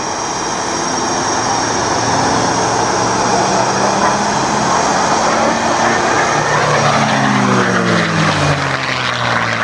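A loud P-51 Mustang propeller engine roars steadily overhead at an airshow, its drone shifting in pitch as the plane moves; an announcer talks faintly beneath.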